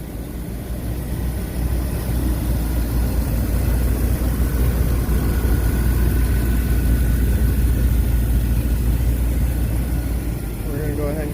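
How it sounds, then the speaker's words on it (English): An engine rumbles steadily at idle, a low continuous drone with little change, close and fairly loud. "She fired right up with no issue."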